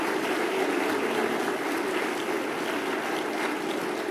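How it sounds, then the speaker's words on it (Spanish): A large audience applauds at a government event in the Casa Rosada, a dense, steady wash of clapping that holds at a constant level throughout with no voices on top. "hay un aplauso para los..."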